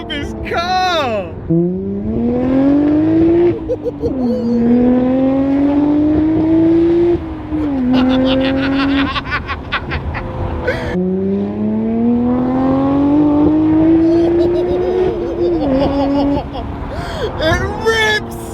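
An orange Cobra at a night car meet revs hard and loud, its engine rising in long sweeping pulls with brief drops between, close by and nearly continuous, with people talking over it.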